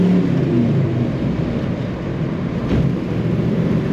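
Engine of a 1978 Chevrolet El Camino restomod, a loud steady drone with a slight swell in revs, heard alone and close throughout.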